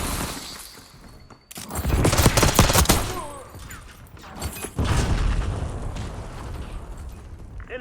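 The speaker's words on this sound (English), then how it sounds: "automatic weapons are fucking overpowered in this game" Automatic weapon fire in the shooter game Black Ops 6 rattles out in loud, dense bursts, with long rapid volleys and booming impacts after a short quiet gap.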